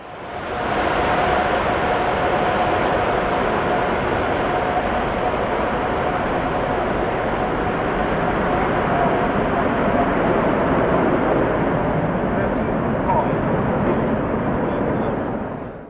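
Jet engines of a Lufthansa Airbus A350 roar steadily through a go-around after a windshear encounter on landing approach, a loud, sustained broadband rumble that rises in, holds, then fades at the end.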